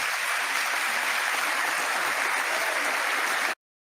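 A steady, dense roar of audience applause during a Bill Clinton speech, many hands clapping evenly for several seconds before cutting off abruptly.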